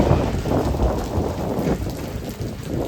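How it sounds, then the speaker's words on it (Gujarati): Strong gusting wind storm with rain, a loud broadband roar battering the microphone with low rumbling buffets throughout, no voices. "પવન સાથે છે, વાવાઝોડું ફૂલ."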